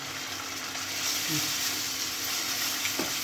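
Ginger garlic paste frying with onions in a pan for an egg masala curry, giving a steady, close sizzle with faint stirring scrapes, no voices.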